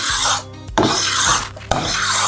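A Stanley 12 1/2 card scraper drawn across a wooden board in long, loud rasping strokes, three passes separated by brief pauses, with no voices over the scraping.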